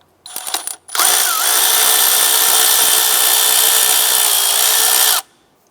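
A power ratchet with a 10mm socket removes a bolt from the back of the intake on a 2004-2008 Acura TL, giving a short stuttering burst followed by a loud, steady whirring run of about four seconds, close by with no talking.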